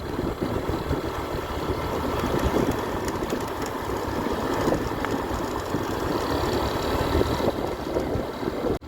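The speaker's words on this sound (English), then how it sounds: "Look at this Sheila, I think she's in 3rd gear already" A motorbike engine drones steadily while riding along an open road, a loud, even roar with wind-like rumble that holds at a constant level throughout, with no voices.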